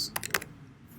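Brief burst of computer keyboard typing: a handful of quick, close key clicks in the first half-second, then quiet.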